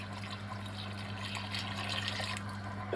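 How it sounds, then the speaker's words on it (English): Water poured into a cooking pot of pork and vegetables to cover them, a soft continuous gurgling splash close by, steady for a few seconds. "I'm just going to add a bit more water just to cover it there."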